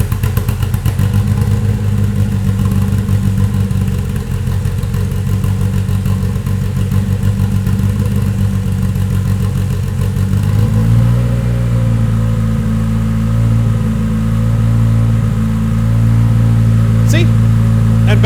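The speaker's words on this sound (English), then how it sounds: "I love variable valve timing. It's got a nice little lope." A 2.7L 1AR-FE engine runs in a Toyota MR2 on an Elite 1500 ECU, idling loud and close with a steady loping throb that settles into a smoother, deeper hum partway through.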